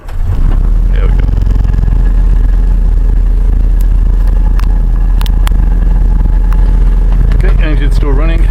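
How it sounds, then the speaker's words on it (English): A 1963 Land Rover Series 2a engine idles after a cold start on choke on a cold Alberta day, a loud, steady, low rumble close by, with a voice joining near the end. "engine's still running."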